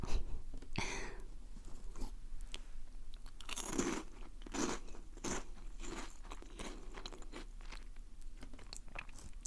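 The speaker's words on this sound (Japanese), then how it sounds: "このコーンのやつなんか美味しいし、音もねサクサクしてるし" Crunchy corn puff snacks are bitten and chewed close to the microphone, giving crisp, irregular crackling crunches in quick bursts over a quiet background, with no talking.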